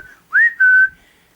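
A person gives two short rising whistled notes, the second held a little longer, clear and close in an otherwise quiet room.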